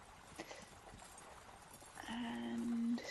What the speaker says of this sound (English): the horses are neighing